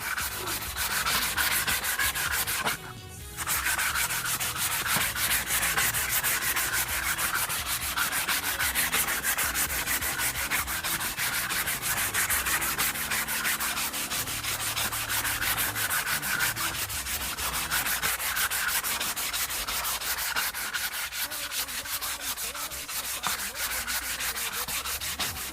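Continuous rapid back-and-forth rubbing of sandpaper on wooden drumsticks (bachi), sanded by hand, close and steady, with one brief pause early on.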